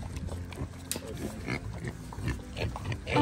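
A pig grunts on a farm where eggs are being gathered among many animals, with low snorts scattered through steady outdoor background noise and some faint voices.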